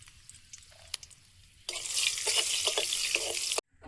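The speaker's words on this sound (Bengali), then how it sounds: "কড়াইতে তেল দিয়ে দিলাম, চচ্চড়িটা বসিয়ে দেব। ফোড়নে দেব শুকনো লঙ্কা," Dried red chillies and bay leaf hit hot oil in a wok as a tempering, bursting into a loud, dense sizzle after a quiet start with a few light clinks, crackling steadily for about two seconds before cutting off.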